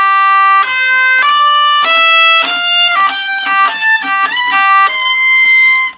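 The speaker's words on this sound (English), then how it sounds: "It'll sound like this, the first half climbing up that scale." A hurdy gurdy plays a steady climbing scale, bright buzzy melody notes stepping upward one after another over a continuous drone, loud and close with no talking.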